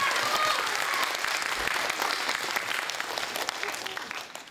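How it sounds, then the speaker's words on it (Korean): Audience applause at the close of a lecture at a town economy concert, a loud, sustained wash of many hands clapping that tapers off toward the end. "다시 한번 큰 박수 부탁드립니다."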